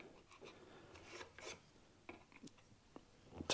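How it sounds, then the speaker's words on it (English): A chisel pares wood from a bass fretboard, giving faint, close scraping and rasping strokes in short uneven bursts over quiet room hiss. "take some of that wood out with the chisel before we get the saw on it"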